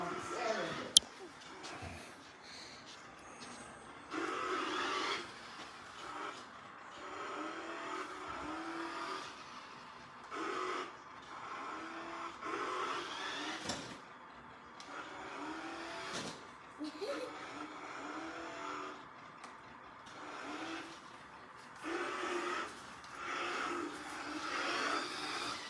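A toy monster truck gives off steady electronic engine and revving noises with tire-squeal effects at moderate volume, running continuously with people talking nearby.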